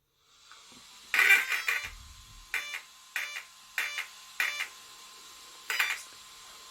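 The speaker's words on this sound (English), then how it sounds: "So just now you could hear there are 4 beeps because I'm using a 4-cell" An Axial RYFT RC car's speed controller gives a brief startup tone, then four short electronic beeps at a steady pace for a 4-cell battery, sharp and close in an otherwise quiet space.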